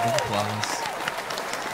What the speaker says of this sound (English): I'm going to give her my own little hand clap here